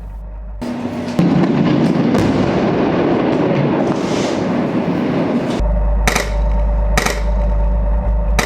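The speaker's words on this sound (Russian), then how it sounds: "Сделав выстрел, танк сразу уходит с линии огня." Tank cannon fire in a Syrian Army urban battle at Jobar: loud, sustained rumbling blast noise fills most of the stretch, followed by several sharp, close cracks spaced about a second apart.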